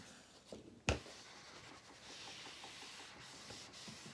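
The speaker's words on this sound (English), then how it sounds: "Just a a bit of steam on this just to hold it in place." A steam iron presses fabric for a small Luna Lapin rabbit doll's dressing gown: one sharp click, then a soft steady hiss of steam that runs quietly to the end.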